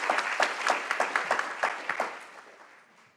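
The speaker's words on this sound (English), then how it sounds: "Please, an applause for him." An audience at a LEAD CSUSB 2023 event gives a short burst of applause, a cluster of sharp, rapid claps that tapers off and fades within a few seconds.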